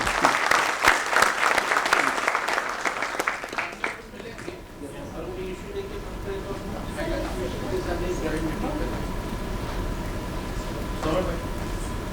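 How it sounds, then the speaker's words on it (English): Loud applause from a national conference audience on capital markets, a dense burst of clapping for about four seconds that fades into a murmuring room with scattered claps and voices. "I request everyone to carry it the loud round of applause please"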